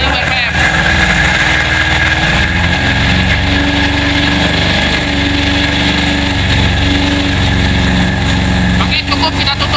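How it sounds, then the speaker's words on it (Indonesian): Car engine held at a raised 2000 RPM during low-pressure air conditioner refrigerant charging, a steady loud continuous drone throughout with no pauses. "Pada saat pengisian melalui tegangan rendah, maka RPM engine kita naikkan sebesar 2000 RPM."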